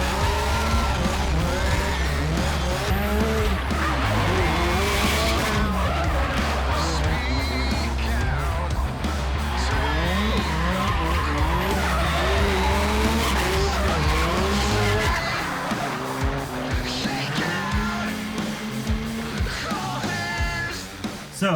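A turbocharged Ford Fox Body with a built engine and sequential gearbox is driven hard: loud, sustained engine roar with rising and falling revs, squealing tires and skidding for about twenty seconds, with no voices.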